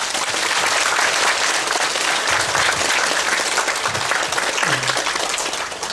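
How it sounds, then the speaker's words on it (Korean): Steady audience applause at a Buddhist eye-opening dharma ceremony for a Buddha statue, filling the space continuously throughout, with a few faint voices murmuring underneath near the end. "박수로"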